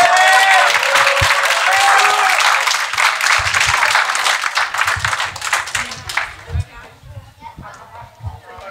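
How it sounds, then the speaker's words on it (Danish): A church congregation at a one-year anniversary service on Stenslyngen gives Jesus a round of applause, loud clapping mixed with cheering voices that swells at first, then thins into scattered claps and footsteps as it fades. "Det betyder, give Jesus en klapsalve."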